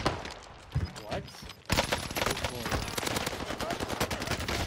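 Rapid gunfire crackles in bursts during a shooter video game with snipers firing from a distance, a dense string of sharp shots that is steady after a short quieter opening, mixed under players talking.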